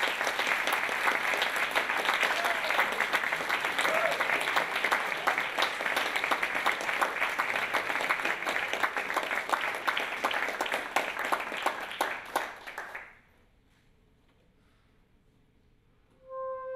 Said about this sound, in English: Please join me in giving a warm round of applause to Paul Winter.